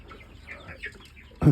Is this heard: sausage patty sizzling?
no